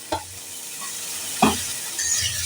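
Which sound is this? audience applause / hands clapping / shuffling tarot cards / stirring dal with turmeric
stirring dal with turmeric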